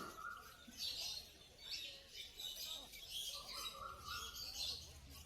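Many caged birds chirp and tweet at a busy bird market in Garia, where pairs of finches and lovebirds are sold. The bursts come continuously and overlap, with steady crowd murmur and faint talk underneath.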